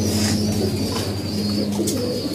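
Pigeons in a loft coo continuously up close, low throaty calls repeating over a steady background hum, with a few higher chirps and rustles mixed in.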